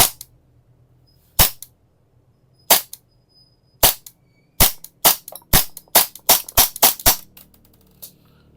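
A KJW CZ Shadow 2 airsoft pistol fires about a dozen sharp, loud snapping shots, spaced widely at first and then coming in a quicker run, with near silence between them.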